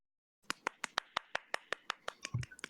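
One person claps alone at a steady, even pace, about a dozen crisp, close handclaps in quick succession in an otherwise quiet room, with a soft thump near the end.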